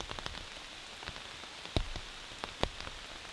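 Light rain pattering onto a surface outdoors by a river, faint and sparse, with a few louder drops and taps standing out now and then.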